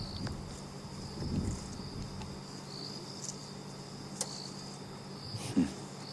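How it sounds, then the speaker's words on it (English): Crickets chirp at night in the African bush as a thin, steady high trill, quiet and distant, with faint rustles, soft wind and a few small knocks nearby. "you might just be able to hear very subtle sounds of crickets"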